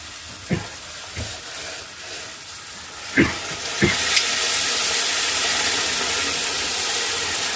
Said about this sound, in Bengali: আমি এবার গরম যেটা জল করেছি সেটা আমি ঢেলে দেবো কড়াইয়ের মধ্যে